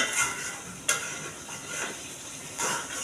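Onion-spice gravy for chicken roast, cooked down for several minutes, sizzles in a pan as it is stirred, with a close frying hiss and a few sharp spoon scrapes against the pan.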